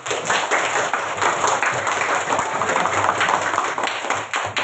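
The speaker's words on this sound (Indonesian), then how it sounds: "coba tepuk tangan untuk Irsam" Students in a classroom clap for a classmate, a dense, steady burst of many hands clapping close by that carries through from start to finish.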